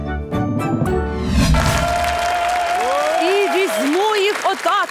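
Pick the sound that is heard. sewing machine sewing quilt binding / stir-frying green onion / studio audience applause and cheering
studio audience applause and cheering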